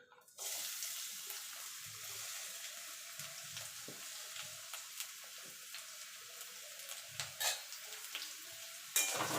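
Chopped onion hits hot oil in a wok, bursting into a loud sizzle that continues as a steady hiss with intermittent scraping stir strokes and a sharp clatter near the end, close up, no talk.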